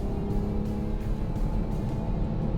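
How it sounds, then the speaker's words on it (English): A Toyota GR Supra pulls hard out of a corner on the Nürburgring, its engine a steady, loud, continuous drone heard from close by, without a break and without voices. "Coming out the corner on the power now, that's straight up to 80, 90, 100. It just keeps on pulling."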